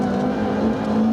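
A rally car runs a wet, slippery wooded stage of the 1991 Lombard RAC Rally. Its engine gives a steady, loud drone for the whole moment, with no talk over it.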